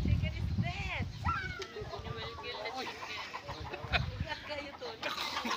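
Chickens cluck in short repeated calls at moderate distance, under a steady background of people talking.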